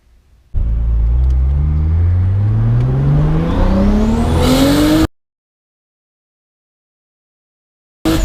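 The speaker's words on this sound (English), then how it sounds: "As much as I love the two-step, we should stop doing that in front of my house." A turbocharged Lexus IS revs hard with two-step launch control in front of a house, engine pitch climbing steadily for about four seconds before cutting off abruptly, then a brief burst returns at the end.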